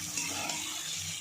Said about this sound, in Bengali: এবার ফুলকপি আর আলু দিয়ে একটু কষে নেব